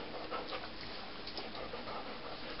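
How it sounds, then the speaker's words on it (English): A dog pants quickly and steadily at close range while waiting to be fed, a continuous rhythmic huffing with no speech over it. "Let's go feed the dog."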